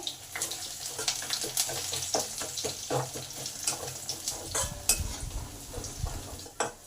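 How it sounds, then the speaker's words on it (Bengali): Chopped garlic fries in oil with cumin over medium heat, making a close, steady crackling sizzle broken by sharp clinks and scrapes from stirring in the pan, with no talk. "রসুনগুলো লাল লাল হয়ে ভাজা হয়ে এসেছে"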